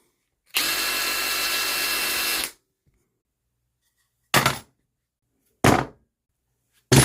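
A cordless power drill running on a DeWalt battery adapter whirs steadily and loudly for about two seconds, then gives two short bursts after pauses.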